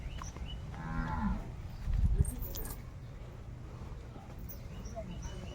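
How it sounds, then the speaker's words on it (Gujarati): A cow mooing near the microphone on a village farm, with a calf and a buffalo nearby, giving one low, drawn-out moo and some quieter lowing under faint background noise. "હવે હું તમને લોકોને એમની ગાય ગોપી બતાવીશ"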